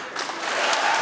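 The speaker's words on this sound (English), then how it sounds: "Roaring applause erupting in the Senate chamber as Judge Ketanji Brown Jackson is confirmed" Applause in the U.S. Senate chamber, a broad wash of clapping that swells slightly and stays steady through a brief moment.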